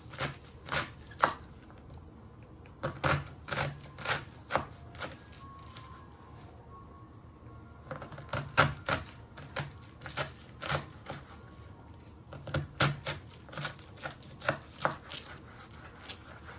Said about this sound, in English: you want to finely slice it